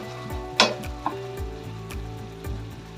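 Sugar melting in a hot pan while it is stirred, heard as a soft sizzle under a steady low hum, broken by a few sharp scraping clicks of the utensil.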